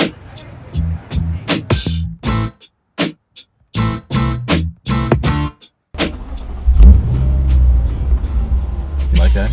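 A 2015 Lexus RC F V8 coupe engine rumbles up as it accelerates, a loud, close, sustained low growl building in the last few seconds after stretches of choppy conversation inside the car.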